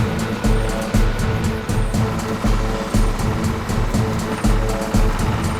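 Vehicle arriving at a police checkpoint, heard as a loud, continuous rumbling engine with rhythmic thumping pulses roughly every second, close and steady throughout.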